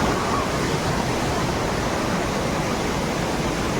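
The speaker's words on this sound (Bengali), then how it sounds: "আমার পাশে ঝর্ণা। আমি এখন ঝর্ণায় আছি।" A waterfall in Goa pours in a constant broadband roar, loud and close, steady throughout without pauses or voices.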